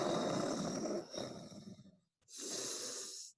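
A sleeping bear snores in its cave in a children's story, with two long, loud, rasping breaths separated by a brief silence.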